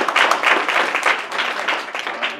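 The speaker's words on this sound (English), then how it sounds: "Give yourselves a round of applause." Applause from the audience at a university alumni awards ceremony, a lively rush of many hands clapping that holds strong, then eases slightly toward the end.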